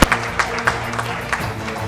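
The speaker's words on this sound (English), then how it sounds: "Doesn't that deserve a round of applause?" An audience at a speakers' symposium and book launch breaks into applause, a continuous bed of clapping with a few sharper claps standing out over a low hum, fairly close and with no one speaking.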